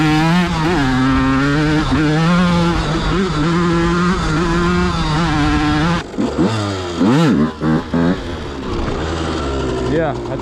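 A two-stroke dirt bike fitted with a Vertex piston runs nearby, loud and buzzy, with its revs wavering up and down and then sharp blips of throttle near the end, and someone talking over it.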